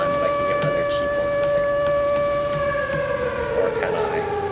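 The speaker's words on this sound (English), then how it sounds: "the air raid siren playing means that you are out of supplies" An air raid siren wails in Gratuitous Tank Battles, a sustained rising-and-falling tone that dips in pitch toward the end, playing over game noise with faint background sounds.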